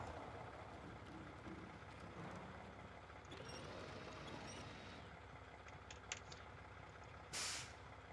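A truck's handbrake air brake releases in a driving game: a short, loud hiss of escaping air bursts out near the end, over a steady engine drone.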